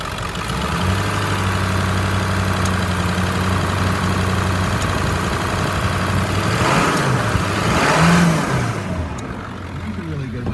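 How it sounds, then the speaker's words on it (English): Engine of a 2003 Ford F-550 XL utility truck idling, then revved up twice in swelling bursts that rise and fall back toward idle, heard up close. "I'll rev it up a little so you can hear it."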